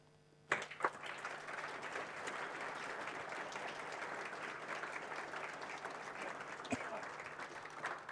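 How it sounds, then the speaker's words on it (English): An audience at a mathematics awards function breaks into a warm round of applause that starts abruptly and holds steady for several seconds, even and moderately distant. "Ladies and gentlemen, a warm round of applause."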